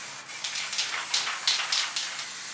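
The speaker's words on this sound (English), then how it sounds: "It's called Pro Paint, and it is matte black, and it's just the kind that you spray and it sets really fast." Pro Paint matte black spray paint hissing from an aerosol can in a series of short bursts, each a bright airy spray of about half a second, fairly close.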